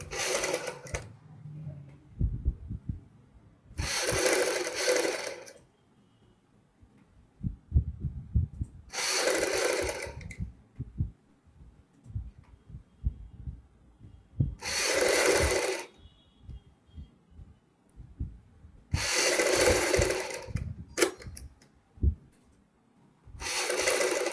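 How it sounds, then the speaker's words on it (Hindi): A sewing machine stitches a folded fabric strip on a suit in six short bursts of rapid whirring, separated by pauses filled with faint handling clicks and rustles. "यहाँ पे फोल्ड करते हुए हम यहाँ पे सिलाई लगाएंगे"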